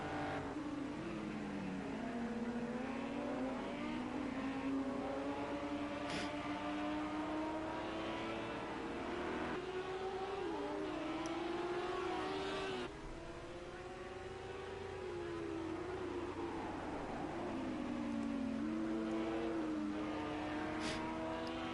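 Race car engines in the Project Cars 2 video game, with a Lamborghini among the field, drone and rise through gear changes, revving up and easing off steadily with no one talking.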